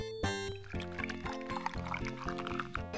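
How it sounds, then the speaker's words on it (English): Game music with a steady beat plays throughout, with milk pouring layered in beneath the melody, from Richard Scarry's Busytown. "So that's gonna pour the milk in."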